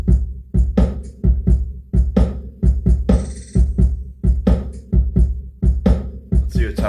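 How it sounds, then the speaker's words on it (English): An 808-style beat loop built from everyday object sounds repeats steady rhythmic hits with deep booming bass and snappy percussive clicks, a brief ringing tone layered partway through. "And the finished 808 loop sounds like this."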